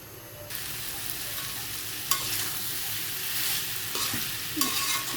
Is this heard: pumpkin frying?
yes